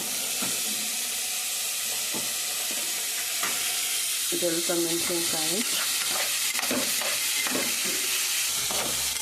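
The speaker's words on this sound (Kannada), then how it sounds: "2 ನಿಮಿಷ ಬ್ರೌನ್ ಕಲರ್ ಬರೋವರೆಗೂ ನೀಟಾಗಿ ರೋಸ್ಟ್ ಮಾಡ್ಕೋಬೇಕು" Green chillies roasting with onion in a pan, a continuous loud sizzle and frying hiss with occasional stirring scrapes close by.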